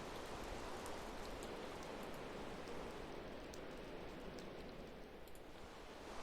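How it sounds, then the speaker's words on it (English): Steady rain in a video game, a dense, even hiss of falling drops that continues unbroken at a moderate level with no voices over it. "Also, it appears to be raining."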